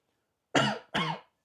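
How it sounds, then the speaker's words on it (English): A man gives two sharp, close coughs in quick succession, alone in an otherwise quiet room. "Still getting over that cough."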